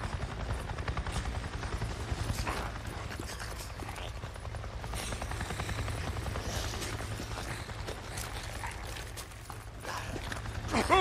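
A Nero helicopter in the video game Days Gone flies overhead, its rotor thumping as a loud, steady, close drone that holds through the whole stretch.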